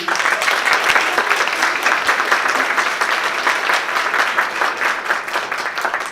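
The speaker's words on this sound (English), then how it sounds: "So let's begin today with a round of applause for them." A large audience applauds graduating student doctors at a ceremony, dense sustained clapping filling the room steadily for several seconds without pause.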